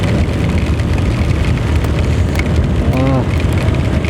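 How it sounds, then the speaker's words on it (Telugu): Heavy rain pours steadily in a dense, constant wash of noise at a hillside cave temple in Andhra Pradesh, with brief voices and exclamations breaking through near the middle. "మరీ ఎక్కువైపోయింది వర్షం"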